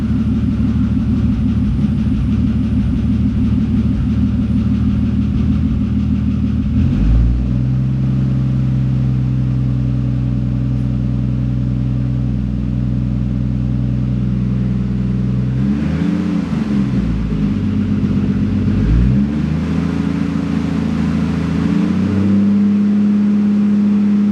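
A Toyota MK3 Supra engine runs loud and close with a deep steady idle, then rises in pitch as it revs, drops back, and revs again in a couple of sustained pulls.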